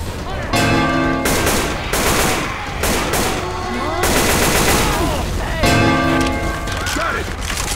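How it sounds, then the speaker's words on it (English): Left 4 Dead 2 zombie battle with a pipe bomb thrown, bursts of rapid gunfire and loud blasts repeating in waves alongside the bomb's ringing beeps, loud and close. "Pipe bomb out!"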